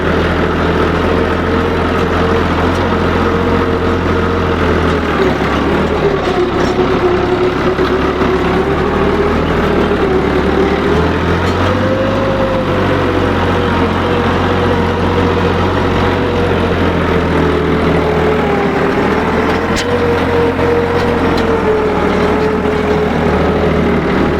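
Tractor running a new rotavator for wheat sowing in a field after paddy, a steady loud low engine drone with a wavering hum, continuous and near, no talk.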